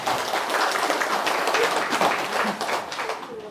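Audience applause fills a Korean Buddhist monk's lecture hall, dense and sustained clapping from a crowd for a few seconds, with a faint voice mixed underneath.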